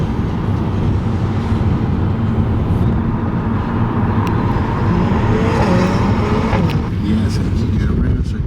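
Mercedes-AMG car accelerating hard on a driving circuit at Mercedes-Benz World, engine drone rising in pitch over several seconds, heard from inside the cabin with steady road and engine roar.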